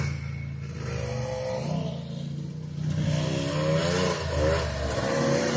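A Can-Am XXC 1000 ATV engine idles with a low throb, then revs up, rising and falling in pitch through a couple of throttle blips, loud and close.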